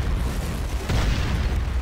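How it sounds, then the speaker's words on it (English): A SAM site blows up in the C&C Renegade video game, a loud close rumbling explosion with a dense low roar sustained across the whole short clip. "SAM site destroyed."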